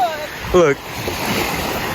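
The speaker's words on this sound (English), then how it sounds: "These waves coming in." Ocean waves rolling in at a Canadian beach, a broad wash of surf with wind buffeting the microphone, and a brief spoken word near the start over the roar.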